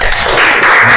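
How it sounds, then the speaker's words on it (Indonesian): Brief burst of classroom applause during an Islamic cultural history lesson, a loud, dense wash of students clapping close by, lasting about a second with no voices over it. "Tepuk tangan."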